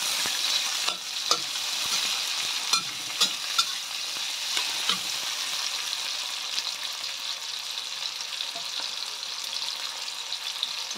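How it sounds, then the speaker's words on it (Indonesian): Chili peppers sizzle and crackle steadily in a hot pan during a stir-fry, with a few louder spatters and the occasional scrape of stirring. "Lalu masukkan cabai, jadi ditumis dulu hingga layu."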